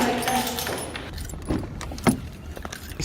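Car keys jangle in a series of metallic clinks with one sharper rattle, close by in a multi-storey car park, over a steady background hum.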